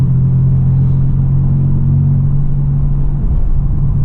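A 2002 Firebird with a V6 and manual gearbox cruises at low RPM, its engine and exhaust a steady, loud, deep drone with no pauses and no talk.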